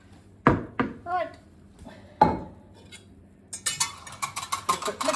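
Quick stirring of a homemade red wine vinegar mixture, a run of light clinks and scrapes of a utensil against a container, close and fairly loud, after a few separate knocks with a voice speaking early on.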